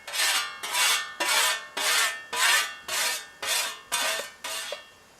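Repeated rasping strokes along a peened blade edge to remove the burr from the other side, nine even, close back-and-forth scrapes in a steady rhythm with no talking.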